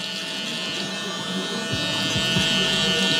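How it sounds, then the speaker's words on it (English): A barber's electric foil shaver works close to the skin while finishing a high taper haircut, giving a steady, near, humming buzz that stays even throughout. "Now I'm going to go ahead and follow it up with the foil shaver, and this is just going to get it closer to the skin"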